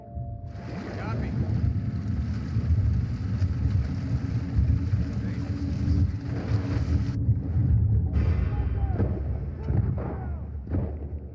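Boat engine running in The Last of Us Part II, a loud steady low rumble with wind and water noise that drops away near the end, voices talking over it.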